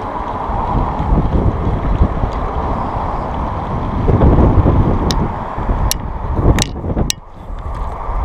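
A topwater fishing lure is retrieved fast across open water in February, its rough splashing churn mixed with heavy wind buffeting and a few sharp clicks of the reel near the end.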